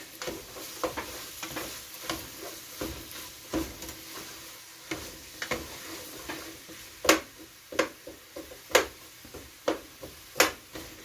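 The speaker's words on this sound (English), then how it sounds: "And we will saute this together, cook it down." Yellow onion with green and yellow peppers sautéing in a pan for plant-based chili, a soft steady sizzle broken by repeated sharp taps and scrapes of a spoon stirring, close and fairly quiet.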